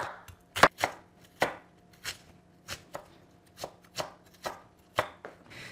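Onions for tomato sauce are cut into large chunks with a knife on a cutting board, about a dozen crisp, separate chops at an uneven, unhurried pace, close and clear with no voices.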